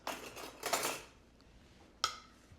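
A knife scores an avocado half in a crisscross, giving quiet scraping strokes: a couple of short scrapes early on, a pause, then one sharper scrape, with no talking.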